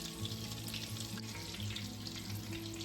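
Breaded chicken cutlets fry in a pan, a continuous soft sizzle and crackle of hot oil at low level, close and steady, alone with no talking.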